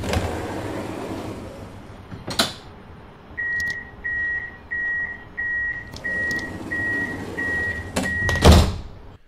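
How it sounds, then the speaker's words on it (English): Tram doors in the Tramsim Vienna simulator opening and closing, with a steady series of about eight evenly spaced warning beeps over a low cab rumble, framed by louder door thumps before and after. "we've got the doors opening and closing."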